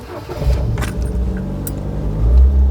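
A car engine turns over and catches after a short crank with a faint jingle of keys, then settles into a loud, low idle rumble close by.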